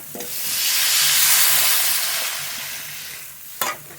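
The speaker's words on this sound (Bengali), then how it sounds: "মশলা থেকে তেলও ছেড়ে দিয়েছে এবার জল দিয়ে দেবো জল" Water hits hot frying masala in a pan while cooking a rohu fish curry, a loud hissing sizzle that swells, holds, then eases, ending with a short stir scrape, close and without talk.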